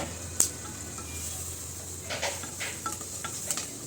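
Onion and tomato sautéing in a pot over a wood-fired chulha for a veg pulao with garden vegetables, a faint steady sizzle with a sharp metallic clink and scattered scraping stirs from a spoon.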